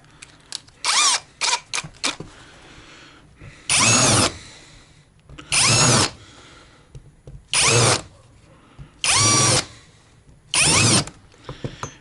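A power drill run in reverse chamfers a hole, whirring in six short, loud bursts, each a second or so long, with quiet pauses between them.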